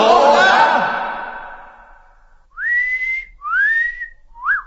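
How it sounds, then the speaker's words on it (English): In an audiobook stage-play reading, a performer whistles loudly in three rising, swooping notes, the last one short, clear and close; a drawn-out vocal exhalation fades away just before. "Bello whistles loudly."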